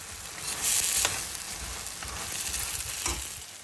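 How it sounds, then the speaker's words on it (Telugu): Capsicum pieces fry in a pan with jalapeño for a tomato coriander pachadi, giving a close, continuous sizzle broken by a few sharp stirring scrapes and no talk. "క్యాప్సికమ్ కూడా కొద్దిగా ఇట్లా ఫ్రై చేసి తీసుకోవాలండి"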